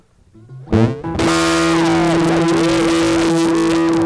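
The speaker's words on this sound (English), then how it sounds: "I'm going to mix my guitar signal in, and you're just going to hear the oscillator" A steady electronic oscillator tone from a Moog Moogerfooger joins a distorted electric guitar, the two blending into a loud, continuous, buzzy drone with wavering pitches.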